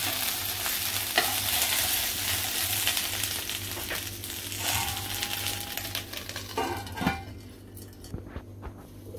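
Okra pieces cook in a pan for masala bhindi, giving a dense, close sizzle with frequent scraping stir strokes and light clicks that thin out near the end.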